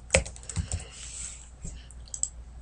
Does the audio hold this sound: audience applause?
no